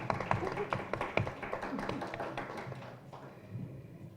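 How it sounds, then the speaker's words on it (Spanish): Scattered clapping from a small audience at a talk show on rights by judges of the City of Buenos Aires, a loose run of sharp claps that thins out, with no voices over it. "un aplauso, sí."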